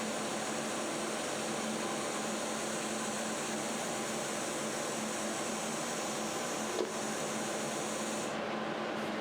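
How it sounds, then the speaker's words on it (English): Close, steady hiss and buzz of a welding arc on a tack weld along turbo exhaust tubing, continuous for several seconds and cutting off near the end. "Let's try to wash that tack weld there"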